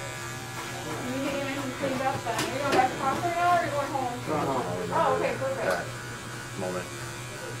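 Electric hair clippers buzz steadily while cutting long hair short, a close, continuous motor drone running beneath people talking.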